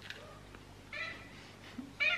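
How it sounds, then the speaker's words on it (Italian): A cat meows softly several times nearby in a quiet room, short plaintive calls spaced apart with a slightly louder one at the end. "Il gatto deve essere tornando alla carica"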